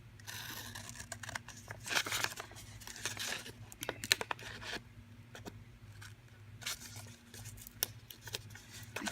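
Scissors snipping through a sticker sheet while sorting a sticker stash, with quiet crinkling and rustling of paper between a few close, light cuts.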